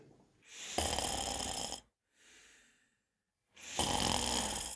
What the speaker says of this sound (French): Elle s'écroule sur son lit et se met à ronfler.